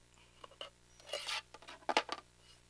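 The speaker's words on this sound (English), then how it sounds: "Cut these apart." Scissors snip through quilt fabric pieces, separating sewn blocks: a few quiet crisp cuts, then a louder burst of rasping snips near the close, with no talking.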